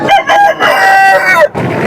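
A fighting rooster at a hen and sheep market in Baireddipalli gives one loud, close, drawn-out crow, followed by a short burst of market noise.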